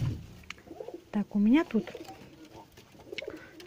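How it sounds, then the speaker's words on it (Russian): Pigeons coo in a cage, one clear throaty rolling coo in the middle, with a person talking quietly nearby and soft rustling. "Он у меня первый голубь."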